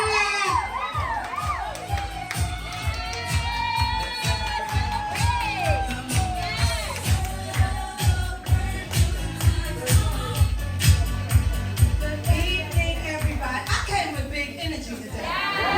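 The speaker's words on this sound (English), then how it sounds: "Clap it up for y'all." A crowd at a victory party for a victims' compensation act cheers, whoops and shouts over rhythmic music, with voices calling out throughout at close range.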